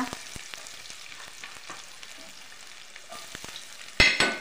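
Onion, garlic greens, green chilli and coriander sauté in a pan with a soft steady sizzle and light spatula scrapes, then a sharp louder clatter near the end.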